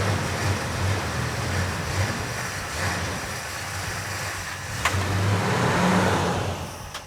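An old 440 V8 car engine that sat unused for 40 years runs steadily, a loud continuous rumble with a brief sharper rise midway and swelling revs toward the end, heard alone without talk.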